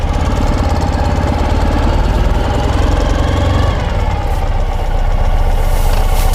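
A 2012 Ural Gear Up sidecar motorcycle idles close by, its engine a loud, steady, throbbing low chug that continues throughout with no talk.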